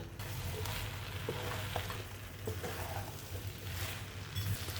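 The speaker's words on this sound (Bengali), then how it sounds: "এবার কাজুটাকে দিয়ে দিলাম, কিশমিশটাকেও দিয়ে দিলাম, দিয়ে 5 মিনিট ভেজে নেব" Rice with cashews and raisins frying in hot ghee for pulao, a steady close sizzle with soft stirring scrapes throughout and no talking.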